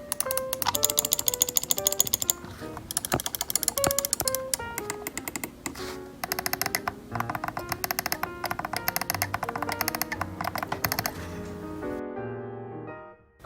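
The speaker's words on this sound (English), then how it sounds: "Here's just listening to the clicks." Rapid, crisp clicking of the buttons on a Razer Deathadder Elite mouse, dozens of close, sharp clicks in quick bursts that stop abruptly near the end, with no talking.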